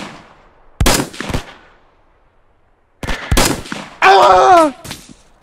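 Machine gun fire from the video game Hell Let Loose: two loud, close bursts of rapid shots separated by a quiet pause, followed by a brief groaning vocal sound.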